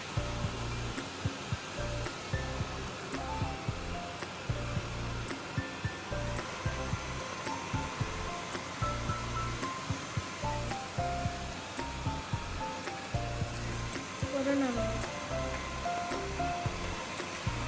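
Xiaomi Mi robot vacuum and mop cleaning a dusty floor, a steady whirring motor hum with a rhythmic pulsing low rumble as it moves, heard continuously and fairly quietly.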